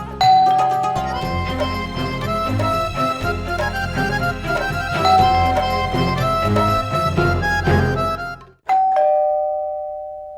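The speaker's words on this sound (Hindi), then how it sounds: "ये घंटी नाम का चीज को भी अभी टंटराना था।" A doorbell rings in a home during a Hindi TV drama scene, its melodic chime playing loudly over background music and then sounding a final clear ding-dong that rings out alone.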